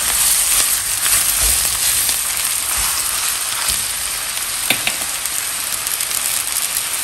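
Ground beef sizzles and fries in a pan, a steady loud crackling hiss with occasional sharper pops, heard alone without talk.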